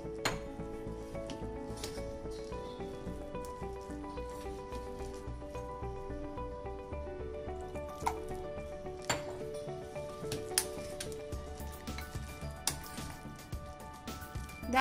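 Coriander leaf pakora batter is stirred by hand in a bowl, with soft wet mixing under a steady run of light clinks and scrapes against the dish, close and fairly quiet, with sharper knocks now and then.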